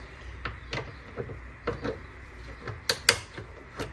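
Hex bolts on an intake pipe being undone with a ratchet or wrench, giving a string of close, sharp metallic clicks and taps spread unevenly, with two louder snaps near the end and a quiet background.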